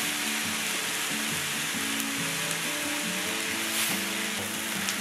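Food frying in a pan after a splash of soy sauce and a little sugar for caramelizing: a steady, close sizzle runs without a break, with faint clinks and stirring underneath.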